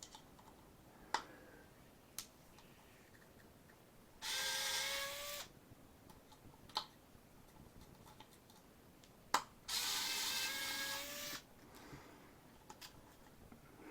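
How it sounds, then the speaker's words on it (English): A screwdriver works at the stubborn magnets inside a hard drive, giving faint scattered clicks and two longer bursts of grinding, scraping effort in an otherwise quiet room. "I'm going to need a bigger screwdriver because these magnets are rough, man."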